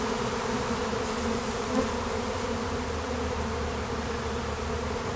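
A honeybee swarm clustered on a tree gives a dense, steady buzzing drone, loud and close, that continues without break and with no voices.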